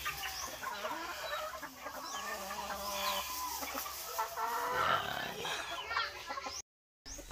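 Chickens squabble inside a coop, with bursts of agitated clucking and squawks overlapping in a busy, close jumble, briefly cut by a moment of silence near the end.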